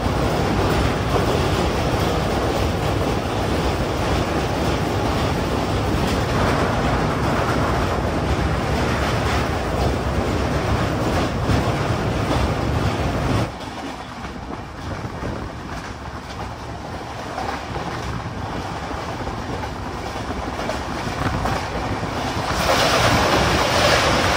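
A moving passenger train with a pantry car, crossing Kamarkundu on a run from Kolkata toward Ayodhya, gives a steady loud rumble and rushing roar that drops quieter midway and swells again near the end; no one speaks.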